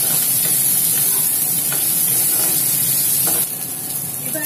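Chopped onion and capsicum sizzle and hiss steadily in a pan over high heat, with occasional stirring clatter and a continuous frying crackle throughout.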